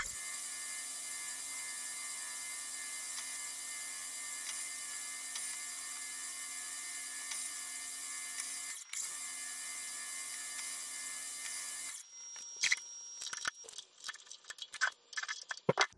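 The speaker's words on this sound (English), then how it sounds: "Let's cut some threads." A Boley and Leinen watchmaker's lathe cutting threads on a shaft, a steady high whine and tonal hum that runs evenly, breaks briefly, resumes, then gives way to scattered clicks and small tool knocks.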